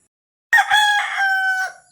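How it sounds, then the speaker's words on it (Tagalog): A rooster gives a single close, loud, bright cock-a-doodle-doo lasting just over a second, after a moment of silence. "Tumira uli ang manok!"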